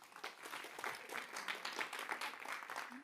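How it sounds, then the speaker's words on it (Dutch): A small group at a local election debate in Achtkarspelen, Buitenpost, gives a brief round of applause, individual claps audible in an uneven, fairly quiet patter that swells and dips. "de lijsttrekkers die jou Jim even een applaus"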